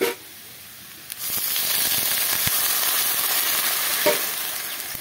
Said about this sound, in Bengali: এখানে আমি গরম জল দিলাম।